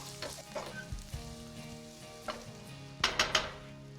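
Chopped rosemary stirred into a sizzling casserole mix in a hot pan, a soft frying hiss under a few scraping spoon strokes, ending in a quick cluster of sharp clinks against the pot.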